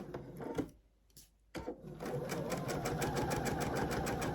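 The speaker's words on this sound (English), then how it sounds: "we're gonna start sewing on this bad boy" A sewing machine stitches a pillowcase up close. After a short start and a brief pause it settles into a fast, steady mechanical chatter that runs on without a break.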